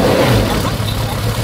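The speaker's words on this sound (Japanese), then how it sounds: "ちょっとエンジンちょっとだけかけてください。" A 1970s car engine fitted with 44mm Solex carburetors (Nismo parts) runs loud and close, with a dense, rough, steady roar throughout.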